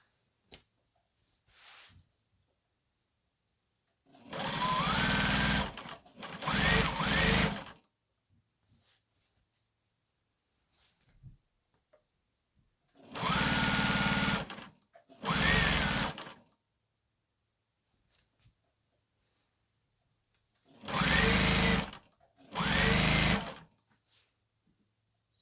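A sewing machine stitches a seam to take in a prom dress, running in three paired bursts of a couple of seconds each, with near silence and faint handling noises between them.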